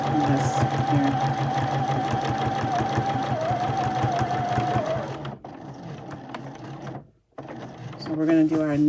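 A sewing machine stitches a frame line around a pillow cover, running in a fast steady whir for about five seconds, then stopping with a short pause before starting again briefly.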